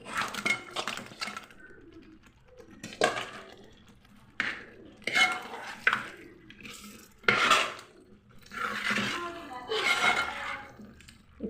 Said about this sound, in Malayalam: ഇനി ഈ ചിക്കൻ അതിലേക്ക് ഇടാം.